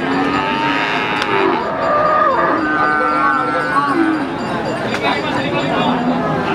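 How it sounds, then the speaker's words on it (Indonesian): Pegon cattle at a livestock market in Pati, moos rising over a dense crowd murmur, with people chattering and talking nearby throughout. "Ada sapi pegon."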